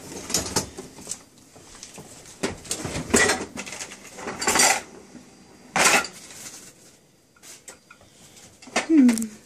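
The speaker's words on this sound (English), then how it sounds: "I'm gonna wash the dishes." Dishes being washed at a kitchen sink, with repeated clinks and clatters of plates and cutlery amid running water, close by and loud, with a voice speaking briefly.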